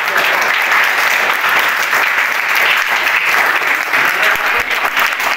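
Sustained audience applause at a Khandesh co-operative credit society gathering, a dense, steady clapping from a large crowd that runs loud and even throughout, with no talk over it.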